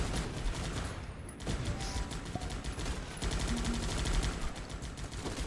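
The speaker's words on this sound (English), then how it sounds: "So bombing run hits true, takes out some units" Bombing run explosions in the strategy game Guns Up, a dense, continuous barrage of rattling blasts and gunfire-like bursts filling the mix at steady loudness, with no talk over it.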